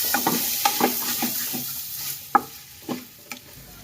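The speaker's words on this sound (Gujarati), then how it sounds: "બટેટાને આપણે વઘારે મિક્સ કરી દઈએ." Mashed potatoes for a masala dosa filling are stirred in a pan, making a series of soft scraping, squelching strokes at an uneven rhythm, close by, with a faint sizzle beneath and no talk.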